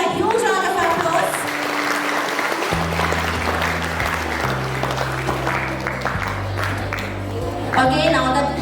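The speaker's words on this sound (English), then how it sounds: "Give them a huge round of applause." Audience applause at a school house-wise quiz competition, a steady wash of clapping from a hall crowd that holds for several seconds while background music plays underneath.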